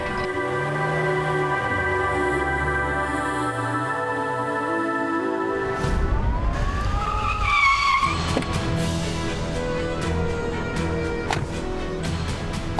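A car in a crime drama scene drives hard and skids, its steady engine drone giving way to a loud rising tire squeal and scraping slide, close and dense, with no one speaking.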